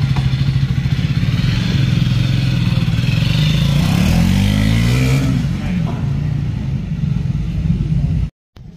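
A Triumph Speed 400 motorcycle engine runs close and loud, a steady throbbing idle that rises in a brief rev and then settles, with faint clatter and a sudden cut near the end.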